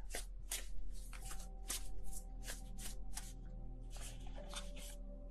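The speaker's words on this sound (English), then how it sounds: "I don't know what's going on with my shuffling right now." Tarot cards shuffled by hand in a steady run of soft riffling bursts, close and fairly quiet, with a faint tonal hum beneath and no voices.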